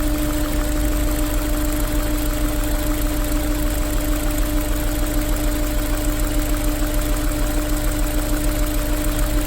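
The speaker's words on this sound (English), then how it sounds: "Running on 3 cylinders." Honda S2000 engine idling rough with a misfire, running on three cylinders, a close, constant drone with a faint rhythmic pulsing lope.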